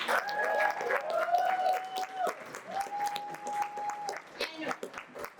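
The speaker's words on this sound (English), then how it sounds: "make it a round of applause for our judges" An event audience gives a round of applause for the judges at the end of a talent show, steady clapping throughout with a few cheers, while a host keeps speaking over it.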